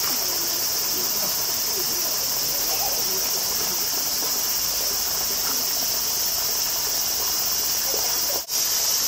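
Running water is used to wet paper for a watercolor painting of a pond, heard as a steady, close, continuous rushing hiss that holds unbroken for several seconds with no speech over it.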